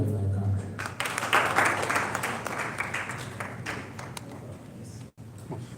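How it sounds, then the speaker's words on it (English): A crowd applauds Eddy Kenzo at a ceremony naming him Uganda's tourism ambassador, a loud, sustained mass of clapping that rises early and carries on steadily throughout. "I'll ask you to give Eddy Kenzo another round of applause"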